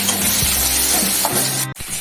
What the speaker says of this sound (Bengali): এটা একটু ভাজা ভাজা হবে